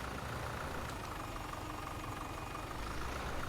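Tractor engine in Farm Simulator 17 running steadily at night while seeding a field, a continuous low rumbling drone at even loudness with no talk.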